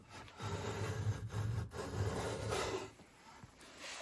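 A freshly sharpened hand plane shaves curls from a wooden board, giving a soft, continuous rasping swish that rises and falls in a few close, quiet strokes.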